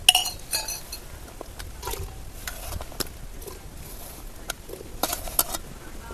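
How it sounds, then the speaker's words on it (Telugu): A spoon stirs and scrapes jaggery dissolving in water in a pot, with light irregular clinks against the metal, close and fairly quiet. "అర్ధ కిలో బెల్లానికి రెండు గ్లాసుల నీళ్ళు పోసుకొని బెల్లం వేసుకొని కరిగేదాకా కలపాలి"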